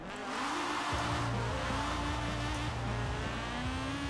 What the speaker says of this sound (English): This is definitely a Honda engine.